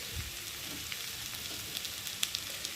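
Chopped tomato sizzles and crackles in hot oil with spices and garlic, a steady close frying hiss with scattered small pops and no talk.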